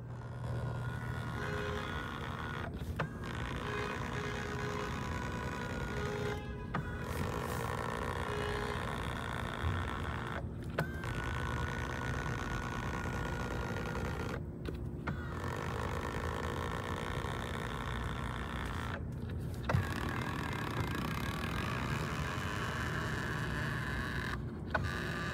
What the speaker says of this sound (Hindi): अभी मैं आपको पहले ना स्टीयरिंग की आवाज़ सुनाता हूँ